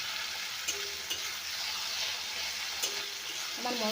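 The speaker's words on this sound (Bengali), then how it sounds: "বন্ধুরা, আমি টমেটোগুলো দিয়ে দিয়েছি।" Tomatoes fry and are stirred in a pan with a steady hiss, broken by a few faint scrapes and knocks of the spoon, close and fairly quiet with no talk.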